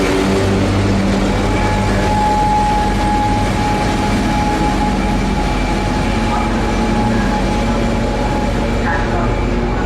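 A train stands at Szolnok railway station in Hungary, producing a loud, continuous mechanical hum and rumble with steady engine drone and faint station clatter throughout.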